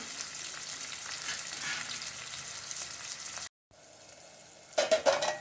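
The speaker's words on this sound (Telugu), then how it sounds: "ఆనియన్స్ మాత్రం ఫ్రై అయితే చాలు." Onions sizzle with salt in a pan for a Telangana-style moong dal tomato curry, a steady close frying hiss. After a brief cut, a few louder scraping stirs follow near the end, with no talking.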